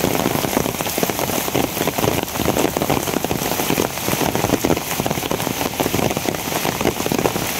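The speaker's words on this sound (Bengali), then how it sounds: "একটু পরে পরেই এই হালকা একটু থামার পরে আপনার আবার শুরু হয় বৃষ্টি।" Steady rain falls outdoors, a dense continuous hiss of drops striking surfaces that holds even and loud throughout, with brief lighter patches in the pattering and no voices.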